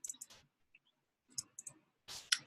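Several sharp computer mouse clicks in quick clusters, close and crisp with short silences between them while a form is saved in document software; no talking.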